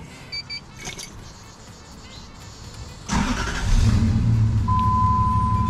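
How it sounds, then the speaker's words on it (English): A Lexus 1UZ-FE V8 swapped into a Jeep KJ cranks with a sudden loud burst after a few quiet seconds, then settles into a steady, deep idling rumble close by. A thin electric whine sits over the idle near the end. "So let's start this engine up."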